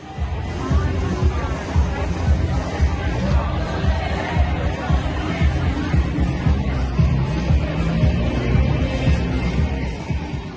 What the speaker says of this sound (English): Thousands and thousands of people packed together in a giant crowd